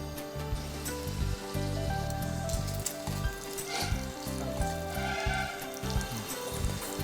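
Bacon fries in a pan, a loud continuous close sizzle and crackle that holds steady throughout, with music or a hum beneath it.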